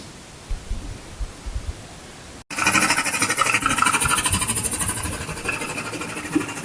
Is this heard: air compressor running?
yes